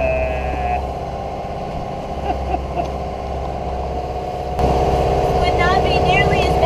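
Sailboat motoring through lumpy seas near Rum Cay and Mayaguana in the Bahamas, its engine running as a steady low drone throughout, with people talking over it and a louder surge of engine and sea noise near the end.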